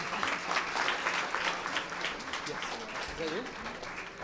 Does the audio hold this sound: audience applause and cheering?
yes